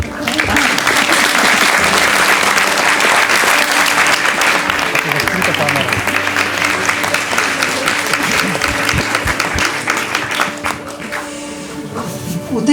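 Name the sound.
cinema audience applauding the actors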